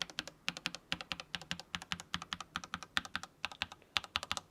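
Number keys are typed on a TECWARE Phantom+ Elite tri-mode wireless RGB mechanical keyboard, giving a steady run of crisp, close clacks in quick clusters with brief pauses and no talking.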